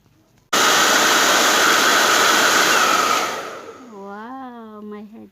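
A new hair dryer blasts a loud, steady whooshing roar at close range, then the airflow drops and a voice speaks over the quieter hum.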